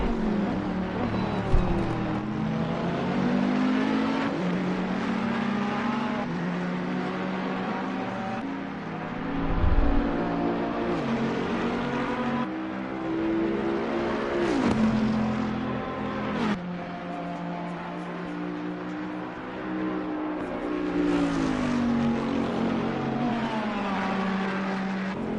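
GT3 race cars, including a Bentley and a white Ferrari, in a racing video game at Mount Panorama, with steady engine drone and shifting revs over about 25 seconds and one brief low thump midway, sustained and fairly loud throughout.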